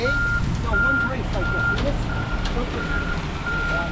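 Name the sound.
concrete truck reversing beeps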